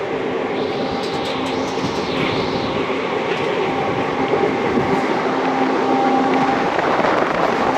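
A freight train of petrol tanker wagons rolls past near Palakkad in Kerala, a dense continuous rumble and rattle of wheels on rails that stays loud and even for several seconds without voices.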